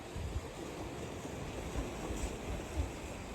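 Sea waves wash onto the shore beside a seaside cave temple, a low, continuous rushing surf with soft swells and some wind buffeting, fairly quiet and with no one talking.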